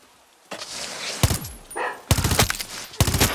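Gunfire rings out from a weapon in Far Cry 6, with a single shot and then two rapid bursts and a final shot, loud and close, with brief pauses between them.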